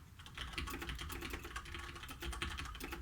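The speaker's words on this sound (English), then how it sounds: "you can hear me typing, but nothing's happening, right?" Someone types steadily on a computer keyboard, a dense run of quiet, close key clicks with an irregular rhythm and nothing else over it.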